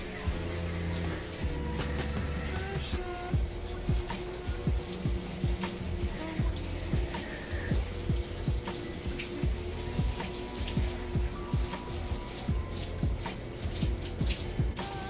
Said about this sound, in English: getting my hair fully rinsed and splitting it just so water can get